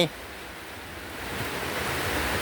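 Steady rain falls with a constant broadband hiss that thickens slightly over the short stretch, with no voices.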